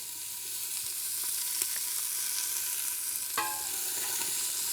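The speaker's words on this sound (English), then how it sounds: "We're going to add the onions now. And we'll give them a stir" Chopped onions frying with a little oil in a pressure cooker, stirred with a spoon: a steady, moderately quiet sizzle throughout, with a few sharp scrapes and a clearer clack of the utensil partway through.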